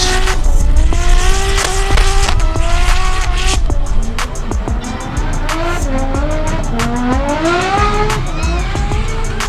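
Drift cars battle at Manfeild in D1NZ competition, engines screaming through rising and falling revs while tires squeal loudly and continuously, with rapid gear changes and crackles close by.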